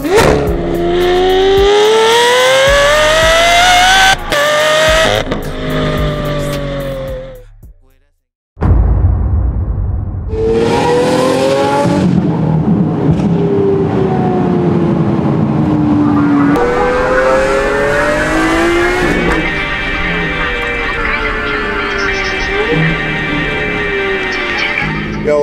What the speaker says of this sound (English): So right now I'm on the street driving this beautiful satin black SV that we just did our full F1 system on.